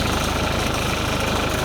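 A BearCat wood chipper engine idles with a steady, dense rumble and rapid low pulsing, close and loud throughout with no voices.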